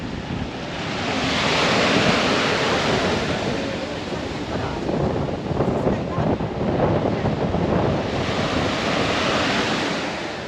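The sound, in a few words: wind rising over the sea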